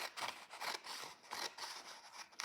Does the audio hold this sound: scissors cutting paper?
yes